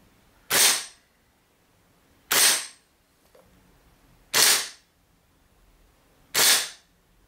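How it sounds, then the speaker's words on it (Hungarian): Four sharp airsoft rifle shots spaced about two seconds apart ring out alone, two fired through a MadDog PowerUp silencer and two without, each a crisp snapping crack in a quiet room. "Most 2 lövést hangtompítóval, majd 2 anélkül fogok mérni."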